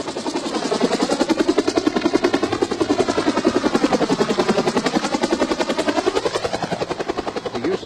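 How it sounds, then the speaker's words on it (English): A helicopter gunship roars close by, taking off or landing, its rotor thudding in a rapid, steady beat that fills the whole stretch, loud and unbroken. "Helicopter gunships were taking off and landing practically every minute."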